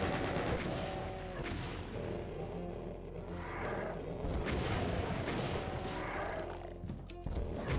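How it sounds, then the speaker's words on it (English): Chaingun fire in a custom Half-Life-inspired Doom map, a dense, continuous stream of rapid shots blending with roaring monster noises and game effects, loud and unbroken for several seconds. "I think I can kill him with a chain gun."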